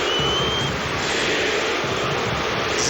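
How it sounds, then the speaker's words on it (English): A football crowd at a France v Germany match roars continuously, a dense, loud wall of shouting and chanting in a stadium. Individual chants such as Zizou for Zinedine Zidane are not distinct. "Zizou, the crowd shout."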